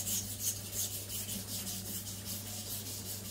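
Zwilling Five Star compact chef knife sharpened on a stone with extra pressure, a continuous close, gritty rubbing with faint rhythmic stroke swells and no voices.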